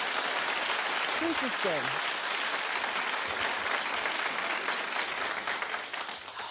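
Studio audience clapping on a daytime talk show, loud sustained applause throughout, with a brief spoken voice partway through and a slight fade at the end.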